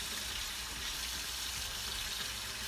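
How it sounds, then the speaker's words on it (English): Pickles being rinsed under a running kitchen tap, a steady broadband hiss of flowing water that holds at an even level throughout, close and continuous with no talking. "Get it all good and rinsed up"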